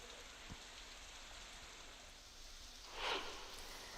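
Heavy rain falls steadily in Palghar district on the west coast, a continuous dense hiss with one slightly louder swell near the end. No one speaks.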